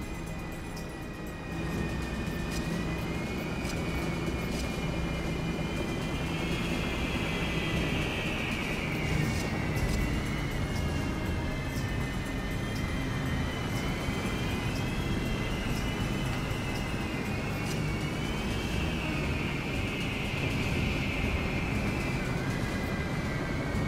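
Enemy bomber aircraft in the video game Battalion Wars drones steadily for the whole stretch, joined by a rising and falling whine that swells twice, all under constant noisy battle ambience.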